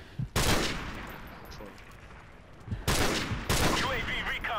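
Rapid bursts of automatic gunfire in Call of Duty: Modern Warfare, three loud broadband volleys with short gaps between them, close and harsh, with faint talk in the background.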